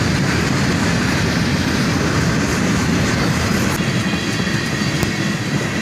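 A CSX freight train rolls past close by with a loud, steady rumble of wheels on rail, a string of gondolas and rock hoppers clattering through continuously.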